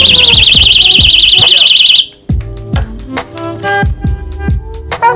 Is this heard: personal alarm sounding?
yes